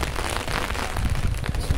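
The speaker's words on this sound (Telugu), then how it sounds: "అయ్యో వర్షం అయితే చాలా కొడుతుంది" Heavy rain pours down in a dense, steady hiss and patter, loud and close throughout.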